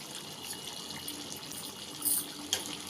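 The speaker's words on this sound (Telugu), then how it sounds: "కొంచెం వాటర్ వేసుకుందాం మనం" Water running and splashing steadily as it is poured into a chicken curry, a continuous close hiss with a brief louder gush near the end.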